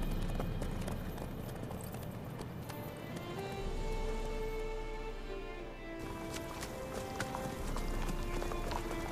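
Horse hooves galloping in The Witcher 3: Wild Hunt, a rapid continuous clip-clop of a ridden horse on the road with an improved saddle, steady and close under a music bed.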